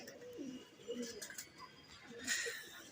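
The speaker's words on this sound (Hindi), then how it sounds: "ये भाई एक हमारी पसंद का कबूतर देखो आप" A prized speckled pigeon on a rooftop loft gives soft, low cooing calls, a few gentle coos spread over the moment, fairly faint against light background noise.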